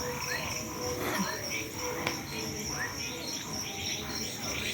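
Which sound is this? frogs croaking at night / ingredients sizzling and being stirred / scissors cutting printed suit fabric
frogs croaking at night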